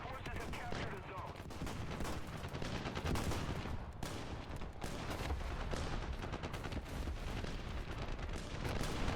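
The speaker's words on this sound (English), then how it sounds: "Here's a pinpoint artillery strike from God." An artillery strike in War Thunder, heard as a dense, continuous roar of explosions and rattling gunfire that stays loud and chaotic throughout.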